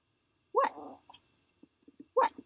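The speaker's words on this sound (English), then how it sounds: "What are you barking at?" A dog gives two short, sharp barks about a second and a half apart, close and fairly quiet, with soft snuffling and small noises in between.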